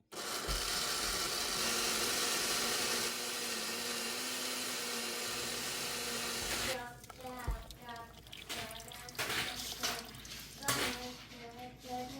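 A blender grinds raw black soybeans for homemade tofu, a loud steady whir for about seven seconds that then cuts off, followed by people talking nearby in a kitchen.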